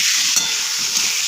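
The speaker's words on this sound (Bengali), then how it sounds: "আমি এবার আলুগুলো ভাজা করে নেবো এই তেলে।" Potatoes fry in hot oil in a wok, a steady dense sizzle that runs alone and close throughout.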